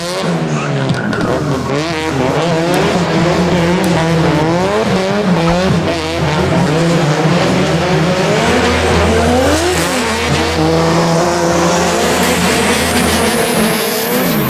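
An SR20-powered 1980s AE86 Corolla and a 1.5JZ Nissan Silvia S13 drift in a D1NZ Pro-Sport competition, with close, loud engines revving hard and continuously under long, steady tire squeal.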